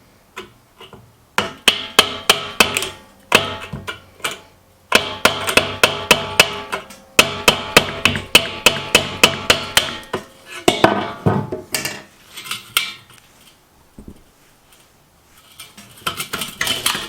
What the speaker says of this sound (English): I just needed a good old hammer to beat it out of there.